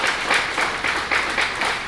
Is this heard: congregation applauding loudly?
yes